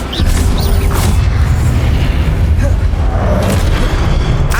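A Confringo spell in Hogwarts Legacy bursts into a loud, sustained rumbling explosion with deep booming low end and crackling debris, a voice shouting in the game over it.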